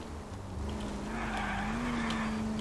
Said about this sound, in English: Oh, this handbrake is awesome.